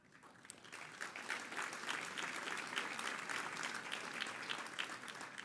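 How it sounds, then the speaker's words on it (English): Audience at an awards dinner breaks into applause, a fairly faint but steady wash of many hands clapping that builds quickly and keeps going without speech. "I paused for your applause, obviously"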